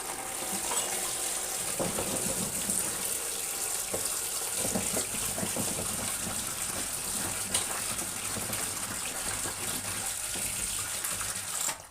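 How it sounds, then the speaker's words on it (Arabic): Tap water runs steadily into a sink or bowl over turnips being washed, a continuous close gushing stream with faint splashing over the produce, no talking. "هنغسله بقى، هنغسله بقى اهو، نحط عليه ميه"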